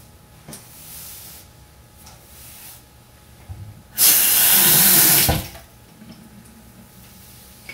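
A bathroom tap runs for about a second and a half to wet a hairbrush, a loud steady splash of water that starts and stops abruptly amid quiet surroundings.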